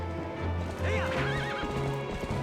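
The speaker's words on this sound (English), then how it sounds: "Getting back on the horse." A horse in Zelda: Twilight Princess HD gives a sharp, close whinny over rapid galloping clip-clop hoofbeats, with game sounds around it.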